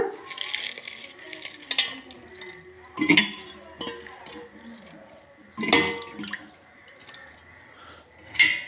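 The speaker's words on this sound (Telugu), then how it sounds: "ఇందులో కొంచెం వామాకును కరివేపాకు కడిగేస్తున్నా." Curry leaves and ajwain leaves rinsed by hand in water in a kitchen for an oil-free rasam: close, intermittent splashing, squishing and dripping in uneven bursts, with a few louder swishes and no talk.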